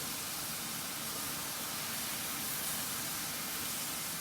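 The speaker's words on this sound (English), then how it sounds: "Again, we're maintaining that very high sizzle." Beef and broccoli in oyster sauce stir-frying over high heat in a wok, giving a loud, steady, close broadband sizzle that holds unbroken throughout with no talking.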